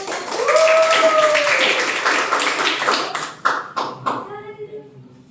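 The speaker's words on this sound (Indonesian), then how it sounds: "Oke, tepuk tangan dulu." A classroom group claps together in a burst of applause that tapers off into scattered claps, with voices rising over it.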